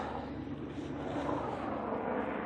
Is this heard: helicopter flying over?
yes